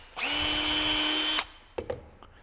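A power drill drives a screw into wood while attaching feet, one steady high whir lasting just over a second, then stopping, followed by a couple of faint clicks.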